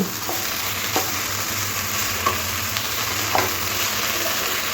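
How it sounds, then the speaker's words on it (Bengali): Mustard, green chilli and coconut paste is mixed into banana stem frying in a pan. A dense, continuous sizzle fills the sound, broken by a few soft stirring taps, close and steady, without voices. "এরপরে ফোড়ের মধ্যে দিয়ে দেবো এখানে সর্ষে কাঁচা লঙ্কা আর নারকেল বাটাটা ভালোভাবে মিশিয়ে নেব"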